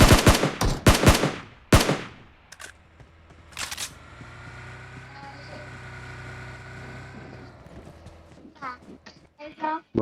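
Shotgun blasts from the video game PUBG come as several loud, sharp reports in quick succession at the start, then another shot, followed by quieter game ambience and faint rapid clicks.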